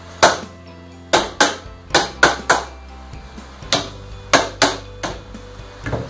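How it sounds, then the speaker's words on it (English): Hammer tapping the steel parts of an LED sign knockdown kit into place, about ten sharp, close metallic strikes in uneven pairs and singles with short ringing decay, no talking. "That's why I recommend having a hammer so you can tap everything out."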